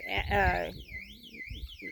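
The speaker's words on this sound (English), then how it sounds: "That's an alarm for to scare off" An electronic alarm set up to scare off coyotes, near a duck and chicken pen, sounds as a warbling siren that rises and falls repeatedly after someone briefly speaks.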